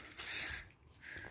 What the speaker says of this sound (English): I'm just going to spray it. Douse it down.